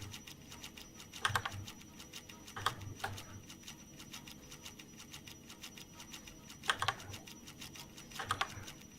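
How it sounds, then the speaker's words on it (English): Item sorters in the Minecraft Brass modpack click constantly, a fast, dense patter of light ticks with a few louder clustered bursts, steady and close throughout. "That constant clicking sound coming from the sorters"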